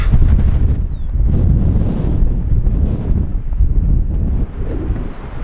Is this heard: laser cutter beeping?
no